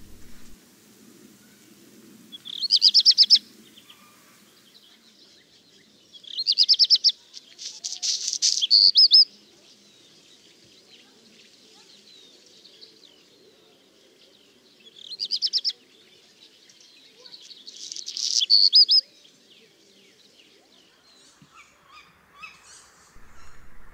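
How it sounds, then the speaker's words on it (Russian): Black redstarts in a village sing before dawn, sending out several short bursts of high, scratchy song at moderate distance over quiet night background. "Особенно горехвостки чернушки в деревне."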